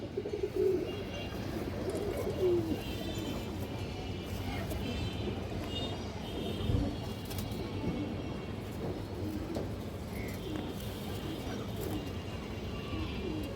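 A large female Bagha pigeon among other pigeons, with soft cooing running steadily through a low, continuous murmur of birds and background noise for the whole stretch.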